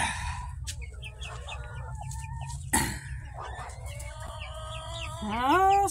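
Backyard chickens in a flock cluck and murmur at close range, with a rooster crowing partway through and a louder rising squawk near the end over a steady low rumble.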